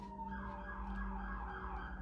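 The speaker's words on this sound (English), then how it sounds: "gonna pause for this ambulance or fire, or what is this? A cop driving by." A police car's siren wails in slow rising and falling sweeps as the vehicle drives past outside, steady and moderately loud with a low road rumble beneath.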